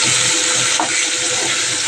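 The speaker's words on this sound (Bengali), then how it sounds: "তাই মাথাগুলো আগে ভেজে নিচ্ছি" Hilsa fish heads frying in hot oil in a home kitchen give a steady, loud hiss and sizzle that runs unbroken throughout, close by with no talking.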